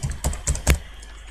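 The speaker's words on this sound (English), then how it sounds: "Who's typing that loudly?" Loud computer keyboard typing picked up during an online chat, with three or four sharp, close keystrokes in quick irregular succession and no talk.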